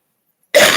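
A single harsh cough bursts out abruptly after near silence, close and loud, cutting off at the end.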